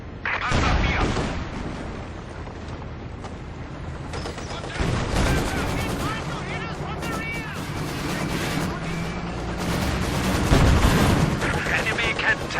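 Gunfire and artillery on a Company of Heroes 2 battlefield near Kharkov, rumbling explosions and scattered shots that rise and fall across the stretch, with louder blasts near the start, middle and end, and game voices heard over them.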